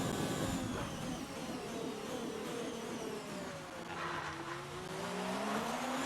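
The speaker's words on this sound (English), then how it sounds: "You can hear the wind pickup for those who don't play F1 games." Rushing wind noise from an open DRS wing in the F1 2019 racing video game at Bahrain, a faint, steady whoosh with engine whine rising and falling beneath it, no talking.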